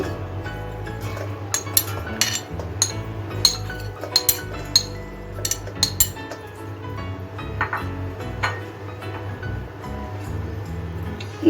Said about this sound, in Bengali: এখন আমি একটা মিক্সিং জারে ডুমো করে কাটা নারকেলটা নিয়ে নিচ্ছি